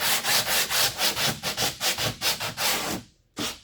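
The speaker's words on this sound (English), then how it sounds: "Just give it a little scuff wherever, all the spots where the glue gonna be at." Rapid back-and-forth scuffing of a surface to prep it for glue, about a dozen quick rhythmic rasping strokes close up, a brief pause, then one final stroke.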